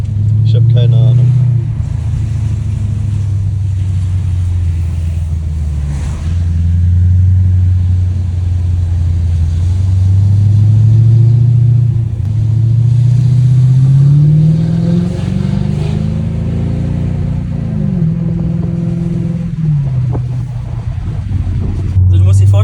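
Mercedes CL500 V8 with a straight-pipe exhaust, loud and close, its deep burbling idle rising and falling through several revs over about twenty seconds, with people talking over the engine.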